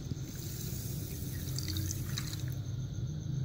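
Water added to sugar in a pot for besan halwa, a continuous close trickling pour with faint splashes and a low rumble underneath.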